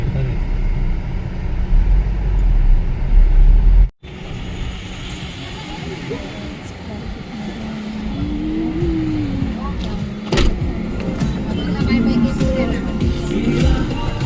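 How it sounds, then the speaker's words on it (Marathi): Road traffic in a jam of cars and buses near roadwork, with engines idling and vehicles moving past close by, a continuous mid-level rumble broken by a brief dropout and occasional louder passes; people talk over it. "जाम ट्रॅफिक आहे ना"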